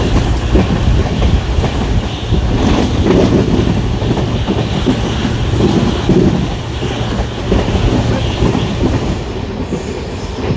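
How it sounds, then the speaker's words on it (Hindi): A passenger train on the Madurai to Bodi line rumbles loud and close from inside the coach, shaking over poor track with continuous rattling and clattering and occasional faint wheel squeals. "ट्रेन बहुत ज़्यादा शेक कर रही है, ऐसा लग रहा है कि मीटर गेज ट्रेन में ही बैठे हुए हैं।"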